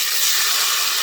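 Peppers and onions hit hot grease in a pan for southern fried cabbage, giving off a steady, bright sizzling hiss that stays loud and close throughout, with no talking.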